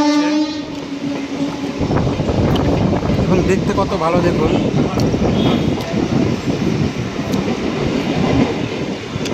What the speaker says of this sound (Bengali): বাজারের মাঝখান দিয়ে আমাদের সেই ট্রেন আহমেদপুর লোকাল চলে যাচ্ছে